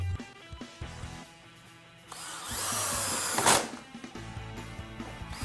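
A power drill drives long screws into a storm door jamb bracket, first brief clicks and taps, then a few seconds of whirring spin that ends in a sharp burst before quieter handling sounds.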